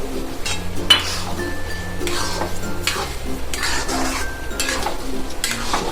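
A spoon stirs boiled ormu with sugar in a pan, scraping and clinking steadily against the metal with a faint sizzle, up close and continuous, with no talking.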